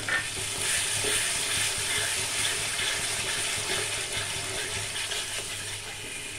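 Spice paste and yogurt fry in a pan for rohu fish curry, giving a steady close sizzle with the scrape of a spoon stirring. It stays fairly even and fades slightly toward the end.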